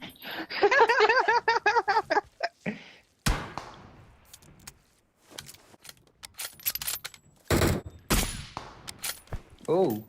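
Gunfire in the mobile battle royale PUBG Mobile comes as rapid automatic bursts followed by scattered single shots and sharp cracks, loud and close, with gaps of quieter game sound between them.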